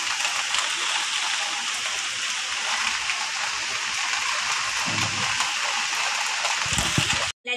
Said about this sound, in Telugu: వాన చూడండి ఎట్లా పడుతుందో, అసలు బయటికి పోవడానికే లేదు.